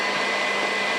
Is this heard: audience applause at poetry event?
no